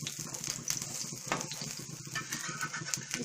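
Bottle gourd (lauki) kababs fry on a griddle over low heat, giving a steady close sizzle with scattered crackles and a brief louder burst partway through, no talking.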